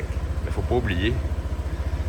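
A 150cc scooter engine runs with an even low pulsing throb, close and steady throughout, while someone speaks briefly over it.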